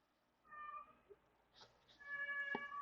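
A black cat meows several times after finding a toy, short tonal calls spaced through a quiet room, one louder meow near the end.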